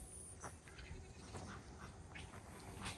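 A goat on a small farm bleats a few times, short faint calls rising over a low, steady outdoor background with no talking.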